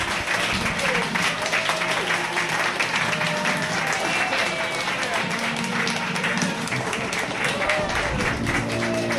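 A large crowd applauds and cheers at a presidential inauguration, a dense, sustained roar of clapping that carries on throughout, with a voice speaking over it.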